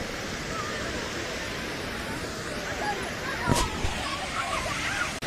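Water pours out of Kodiveri dam into the Bhavani river, a loud, steady broadband rush of flowing water with a brief splashing surge midway.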